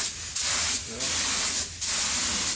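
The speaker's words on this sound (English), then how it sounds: "You're going to spray those catches as well," Spray gun hissing in repeated bursts as catches on a 1938 SS Jaguar 3½ litre drophead body are painted, steady loud spray sounds separated by brief pauses, close by.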